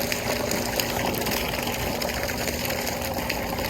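An above ground pool pump, converted for use as a pond pump, runs steadily with a continuous dense whooshing water-and-motor roar and a low steady hum, close and unbroken throughout.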